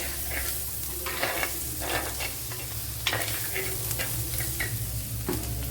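Onions sizzle and fry in a pan for a Kerala-style squid dish while a spoon stirs and scrapes in quick, irregular strokes, close and continuous, without any talking.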